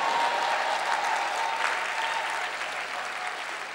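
Congregation at a church convention applauding to acclaim the Lord, a dense, steady wash of clapping hands that fills the whole stretch, loud and close at first and easing slightly toward the end.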